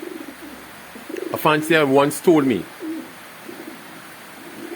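Racing pigeons kept in Trinidad and Tobago coo softly and low in the background while someone talks over them close to the microphone.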